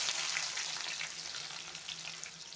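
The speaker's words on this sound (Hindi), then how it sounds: "इसी तेल पे मैं पहले थोड़ा सा लहसुन ऐड कर देंगे और थोड़ा सा प्याज ऐड कर देंगे" Garlic and onion fry in hot oil in a kadai, giving a steady close hiss and crackle of sizzling with small spattering pops throughout, without any talk.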